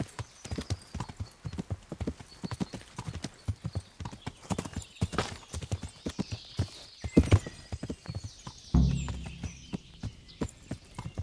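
Hooves clip-clop in a quick, steady rhythm close by in the video game Kingdom Come: Deliverance, and toward the end a horse gives a loud whinny.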